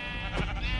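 Bleating of a pink sheep in the Minecraft game, a short wavering call heard close and alone over a faint steady background.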